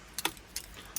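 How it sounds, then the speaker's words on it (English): Keys to an Audi S3 Quattro with a Revo Stage 1 tune jingle faintly inside the car cabin in a few short metallic clinks, close and quiet, with no talking. "Two keys."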